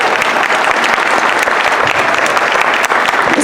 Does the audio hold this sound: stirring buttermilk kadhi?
no